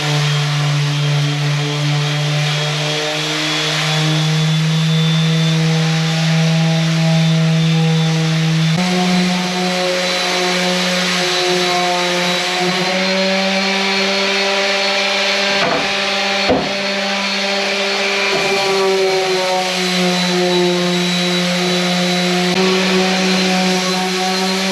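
A power sander works over a plywood router table cabinet, a loud continuous motor whine with shifting pitch that holds steady throughout.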